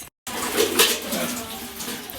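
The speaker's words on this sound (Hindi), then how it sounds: "बर्तन धोने से पहले ही पानी फुल खुला हुआ है, फुल रफ्तार" A kitchen tap runs wide open at full flow before dishwashing, giving a steady, close gushing of water with light clatter of dishes.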